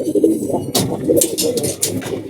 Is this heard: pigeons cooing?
yes